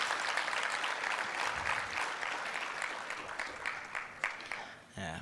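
Applause from a conference audience at a veterinary association gathering, a dense sustained patter of many hands clapping close and steady, tapering slightly near the end.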